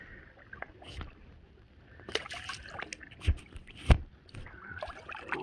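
Paddle strokes from a stand-up paddleboard on a shallow canal: soft splashes and dips at irregular intervals, a few sharper strikes, close by over faint outdoor background.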